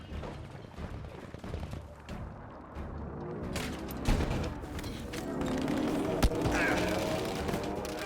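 Gunfire in Battlefield V, a dense spread of shots and mechanical clatter building over a rumbling battlefield, some cracks sharp and near, others distant, with a voice talking briefly in the mix.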